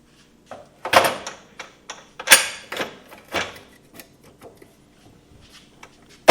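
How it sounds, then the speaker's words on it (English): A sprint car oil filter is cut open by hand tool, giving a series of short, sharp metallic clicks and scrapes in irregular bursts, close and moderately loud, fading to faint ticks near the end. "I'm going to cut this filter open."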